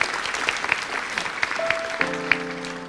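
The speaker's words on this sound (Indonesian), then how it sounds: "Kasih tepuk tangan bagi Tuhan." A church congregation claps together in steady applause. A held musical tone enters partway through and continues under the clapping.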